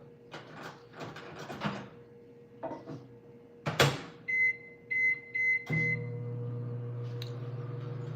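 Microwave oven warming leftover hot chocolate: door handling and clunks, a string of short electronic beeps, then the steady low hum of the oven running alone and close.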